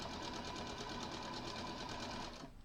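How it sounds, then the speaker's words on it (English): A sewing machine stitches quilt seams in a fast, steady mechanical chatter, close and moderately loud, stopping abruptly at the end, with no talk. "So I'm going to finish sewing these"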